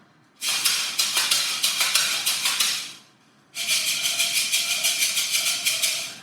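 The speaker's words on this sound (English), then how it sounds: "This one is also a professional shaker, different shape, different sound." Two bursts of quick, crisp shaker rhythm, each with rapid even pulses and a gritty hiss, separated by a short pause.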